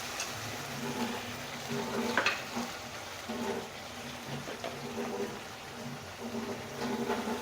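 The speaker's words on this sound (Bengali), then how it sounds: "এখন ওই তেলের মধ্যে দেখুন মশলাটা বেটে রেখেছিলাম সেই মশলাটা দিয়ে দিচ্ছি" Ground spice paste frying in hot oil for a squash curry, a steady close sizzle broken by spoon stirring and scraping sounds throughout, with no talking.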